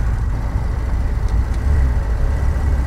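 A Bond Bug car engine labouring up a hill on a bumpy road, a loud, steady mid-pitched drone with rumble and road noise throughout and no talk.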